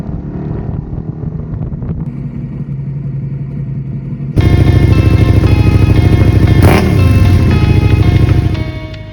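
A motorcycle rides along roads in West Auckland toward the Waitakere, its engine droning loudly and close with wind buffeting. Midway the engine note jumps sharply louder as the bike accelerates hard, then it eases off near the end.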